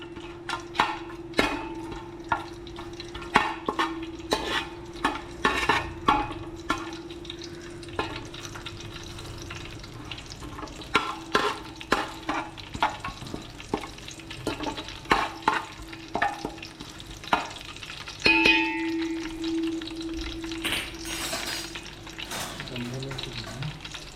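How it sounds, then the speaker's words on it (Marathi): Whole garam masala spices frying in hot oil for oyster biryani, a steady close sizzle broken by frequent sharp clinks and scrapes of a spoon stirring in the pan. "अख्खा गरम मसाला आपल्याला तेलामध्ये शिजवून घ्यायचा"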